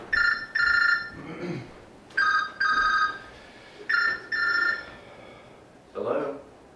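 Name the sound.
telephone ringing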